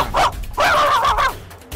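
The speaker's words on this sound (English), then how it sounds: "You can hear our dog bark." A dog gives a short bark followed by a longer, drawn-out howling bark, loud and close, then a brief quiet pause.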